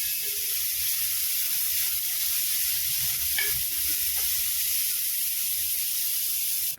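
Vegetables being stirred in hot oil in a pan give a steady close sizzle and frying hiss, with soft spoon scrapes and clinks partway through and no talk.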